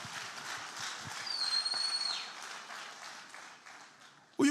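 Church congregation applauding for Jesus during a sermon, a dense steady crowd clapping that holds for about four seconds with a thin whistle over it, then drops off before a sharp knock at the end.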